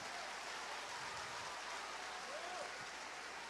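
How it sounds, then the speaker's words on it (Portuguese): Church congregation applauding together, a steady dense wash of clapping that fills the room at a distant, quiet level, with faint voices underneath. "Se é para aplaudir, aplaude todo mundo junto com vontade"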